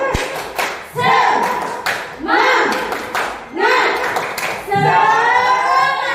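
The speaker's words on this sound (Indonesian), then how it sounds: "Ayo kita ulang lagi. Tepuk semangat." A classroom of students performs the tepuk semangat spirit clap, loud unison rhythmic clapping in repeated patterned bursts, with children's voices chanting along between and over the claps.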